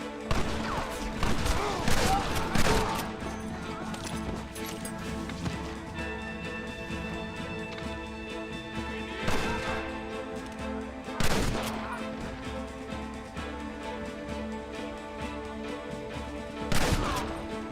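Gunfire in a Red Dead Redemption shootout, with several loud sharp shots and bursts spread over the stretch between quieter gaps, and game voices shouting in between.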